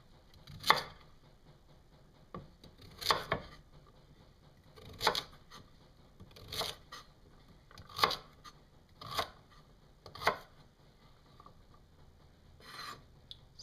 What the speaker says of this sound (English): So, we're gonna cut this into slices.